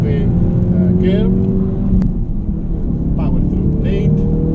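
Ford Focus RS race car at Spa-Francorchamps held at full throttle, a loud steady engine drone with gear-shift dips, heard from on board with radio talk running over it.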